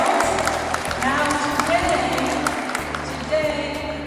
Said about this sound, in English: Let's applaud for the Bronx.